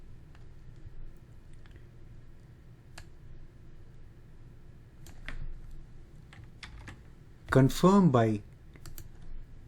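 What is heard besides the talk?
typing a bucket name on a computer keyboard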